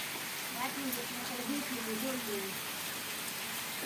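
Heavy rain pours in a steady, dense hiss while a person talks over it.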